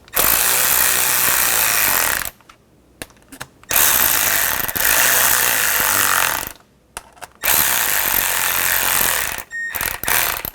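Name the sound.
screws being tightened on a plastic seat switch panel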